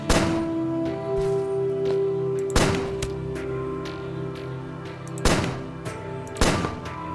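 Gunfire in the Starbound video game, several sharp broadband shots at irregular spacing, loud over a steady droning game music bed with sustained tones.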